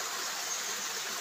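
Ubo Falls in Barangay Mayngaran, Masbate gives off a steady, hissing rush of falling water, constant and close with no other sounds.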